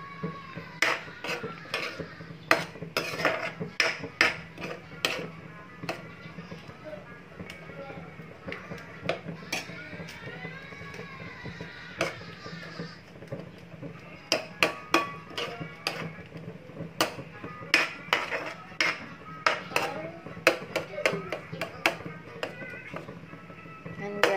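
A utensil mashes sardines in a bowl for a sardine omelette, giving a long run of irregular clinks and taps against the bowl, moderately close, with a faint background hum and no speech over it.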